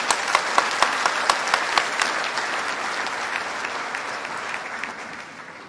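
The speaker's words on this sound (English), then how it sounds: "Let's give a big applause for Gwen." Audience applause at the opening ceremony of Social Business Day, starting with a few sharp distinct claps and swelling into steady, fairly loud clapping from a large crowd that gradually fades over several seconds.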